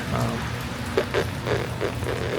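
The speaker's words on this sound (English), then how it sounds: "it doesn't look like the rain's letting up at all" Steady rain falls in a dense, continuous patter with a few brief heavier drips standing out, heard alone without speech.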